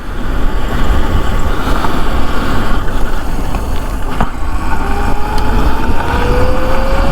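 An Ultraviolette F77 electric motorcycle rides along at speed, a steady rushing roar of wind and road noise with a thin motor whine rising through it, continuous and close, with no talking.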